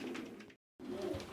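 Racing pigeons coo steadily in a breeding loft, a low soft murmur from several birds with a brief silent break in the middle.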